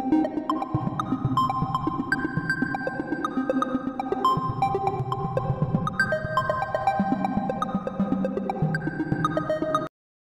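Synthesized electronic beeps at shifting pitches, randomly generated in ChucK, play in a steady, random-sounding sequence, each tone ringing out with a wash of reverb.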